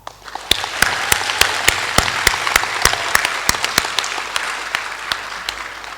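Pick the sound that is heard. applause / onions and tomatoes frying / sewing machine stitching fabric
applause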